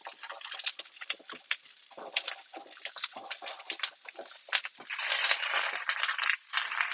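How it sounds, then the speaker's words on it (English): Shiitake mushrooms stirred into cauliflower in a pan, giving a run of close, crisp rattling scrapes and light clatters that grow busier and denser toward the end, with no talking. "Give that a little stir."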